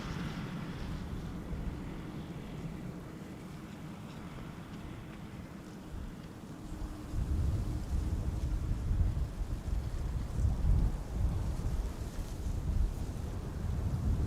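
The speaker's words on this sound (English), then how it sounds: "Meanwhile, the drizzle is resuming again." Wind buffeting the microphone with light drizzle at Amsterdam Schiphol Airport, a low rumbling gusty wash that grows stronger halfway through, no speech.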